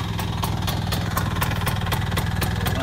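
A small Vespa scooter engine idles steadily nearby, a rapid even putter with regular rhythmic pulses and no voices.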